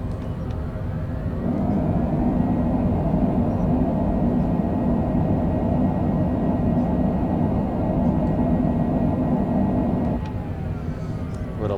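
An airliner rolling out after landing at Sacramento International at sunset, with a loud steady roar of thrust reversers that builds, holds for several seconds, then eases off.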